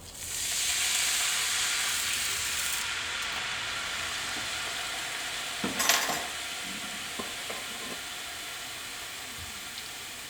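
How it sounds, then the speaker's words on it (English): Vinegar and water poured into a hot frying pan hiss and sizzle loudly, a steady steamy spitting that softens slightly, with a few clanks of a utensil partway through. "Now I'm going to pour half a cup of vinegar and half a cup of water into"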